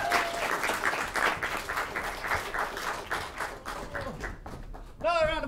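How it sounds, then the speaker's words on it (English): Audience applause fills an awards ceremony hall, a steady wash of many hands clapping at moderate volume that carries on for about five seconds before a voice cuts in at the end. "Applause!"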